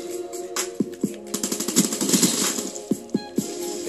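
Rapid gunfire from the video game Call of Duty Black Ops 3, a dense run of sharp repeated shots and bursts with a steady game hum beneath, close and fairly loud.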